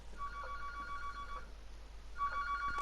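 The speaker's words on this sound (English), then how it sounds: "that phone ringing there" A telephone rings in a Dreams horror game on PS4, in two bursts of warbling electronic tone with a pause between them, fairly quiet over a low background hum.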